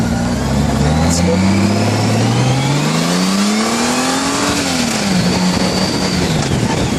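A Honda Goldwing motorcycle accelerates hard, its engine note rising steadily through the gears in a loud, continuous roar with heavy wind rush close to the rider.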